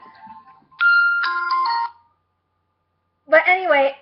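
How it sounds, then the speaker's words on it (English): A mobile phone ringtone plays in two bursts of bright tonal chimes separated by a pause, loud and close, with a woman's speech beginning near the start. "oh, my phone's ringing."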